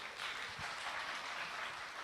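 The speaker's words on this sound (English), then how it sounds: "Please give her a warm round of applause." Audience applause fills a forum hall at the opening ceremony of the World Humanities Forum, a steady, dense wash of clapping held at even loudness throughout, with no talking.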